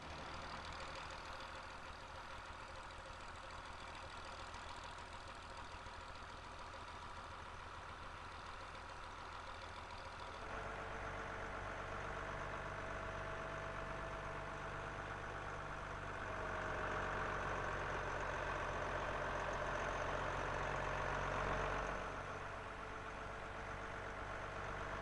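A Leyland 1004 diesel tractor unit idles steadily, its low throb swelling slightly in loudness partway through and continuing unbroken, with no voices.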